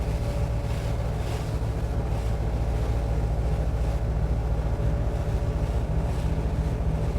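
A motor boat's engine drones steadily as it speeds up across choppy water, with wind buffeting and wave wash mixed into a constant low rumble.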